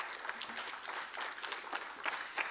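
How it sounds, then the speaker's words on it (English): An audience at a formal afternoon address claps in steady, dense applause, moderately faint and even, with no voices over it. "Can we give the Vice Chancellor a round of applause?"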